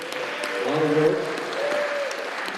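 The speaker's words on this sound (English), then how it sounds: "a big round of applause for his parents, Elisa and Dorsey" Crowd applause for a student athlete's parents at a high school national signing day event, a steady clapping wash with voices and a cheer rising over it.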